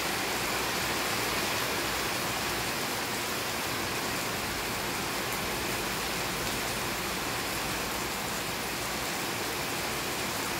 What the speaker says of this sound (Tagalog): Pumapatak na naman ang ulan dito sa Kilom.